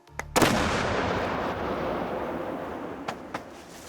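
A military weapon fires once at test range, sending out a heavy blast wave: a sharp crack followed by a long rumbling roar that slowly fades, with a couple of fainter distant thuds near the end.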